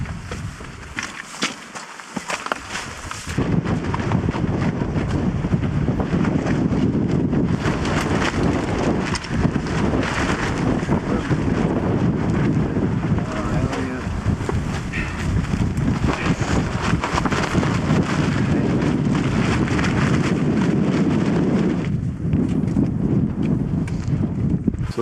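Wind gusting during a cold, snowy night climb toward the summit of Mount Toubkal, a roaring buffeting rush over the microphone that runs steadily and loudly after a quieter start, with crunching footsteps underneath.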